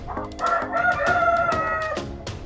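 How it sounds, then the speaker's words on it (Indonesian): A Japanese Shamo hen calls in a series of loud, harmonic squawks and clucks, several separate cries spread across a couple of seconds at close range, with no talking. "Ini betina ayam Samu Jepang."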